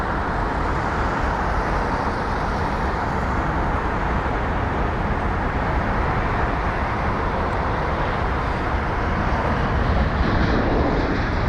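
An A320 airliner from Aberdeen arriving at London Heathrow, a steady broad roar of jet engines that stays loud and even throughout, with a slight swell near the end.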